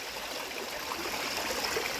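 A small forest waterfall stream in Finland splashes over rocks with a steady, close hiss and gurgle of rushing water, continuous and even, with no voices.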